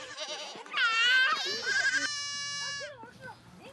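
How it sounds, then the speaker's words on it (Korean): Baby goats bleat in loud, wavering cries as they are driven out of a pen in Mongolia, several overlapping calls close by across the whole stretch. "어린 아이들까지 합세해 우리 밖으로 새끼 염소들을 이리저리 몰아냅니다."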